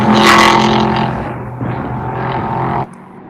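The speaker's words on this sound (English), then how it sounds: "Now that the cars are starting to fade away, for Tatiana Calderon" Race cars at the Le Castellet circuit roar past loudly, engine whine sliding down in pitch and fading, then cut off sharply near the end.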